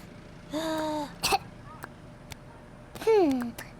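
A cartoon child coughs twice in a short, high-pitched, voiced burst, with a brief throaty sound between them, clear and close against a quiet background.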